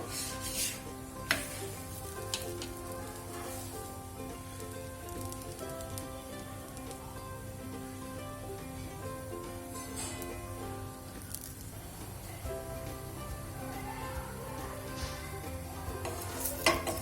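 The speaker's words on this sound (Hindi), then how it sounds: "रोटी को अब सेक लेंगे।" Coriander roti roasting on a pan over a low to medium gas flame, with a continuous soft sizzle and occasional scraping and tapping against the pan.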